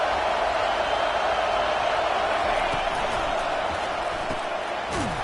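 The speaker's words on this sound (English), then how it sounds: "Decibels rising as the crowd gets behind this defense on 3rd down" Steady roar of a stadium crowd cheering in a college football video game, Nebraska against Utah on a third-down defensive stand, a loud continuous wash of noise with no clear breaks.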